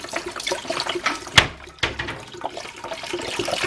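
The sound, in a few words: pouring chicken broth into a pot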